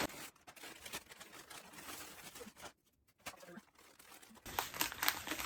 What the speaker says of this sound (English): Ruining the paper that I used to wrap it.